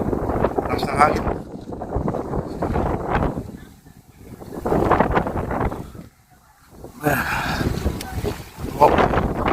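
Gusty sea wind at Kapurpurawan in Ilocos Norte roars against the microphone in loud surges with short lulls, blending with the rumble of crashing waves.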